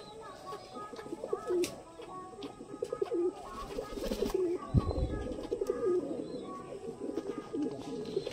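English Nun fancy pigeons coo softly in a village breeding loft, low repeated burbling calls mixed with rustling, wing flutters and faint background noise throughout.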